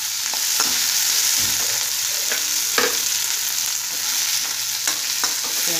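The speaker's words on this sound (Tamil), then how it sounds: "போட்டுட்டு வெங்காயமும் பச்சை மிளகாயும் உடச்சி வருங்க. சேர்த்துட்டு கொஞ்சம் வதக்கணும்." Chopped onions and green chillies sauté in hot oil with mustard seeds and cumin, a steady loud sizzle close up, broken by occasional light clinks and scrapes of a stirring spoon.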